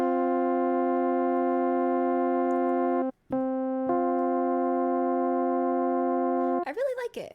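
A sustained microtonal perfect fourth tuned about 11 cents sharp, heard as a steady harmonic-rich interval held for several seconds, briefly dropping out near the middle before resuming, then giving way to a short burst of voice at the end.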